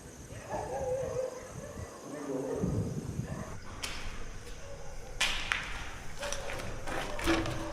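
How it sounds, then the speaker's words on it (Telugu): Dogs barking and yelping at night near a supposedly haunted house, several sharp barks and whimpers over a steady noisy background, with people talking throughout. "కానీ ఇక్కడ మాత్రం ఫుల్ అరుస్తూనే ఉన్నాయి కుక్కలు."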